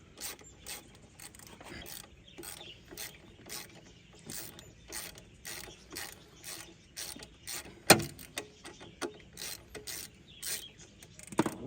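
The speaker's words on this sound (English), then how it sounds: "So we're going to take these two bolts out here." A ratchet clicks in repeated quick bursts while loosening bolts on the power steering pump of a 2003 Subaru Outback, close and clear with short pauses between strokes.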